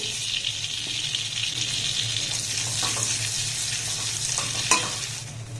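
Whole cumin seeds dropped into hot melted butter sizzle in a steady, close hiss over a low background hum, with a brief sharper crackle near the end.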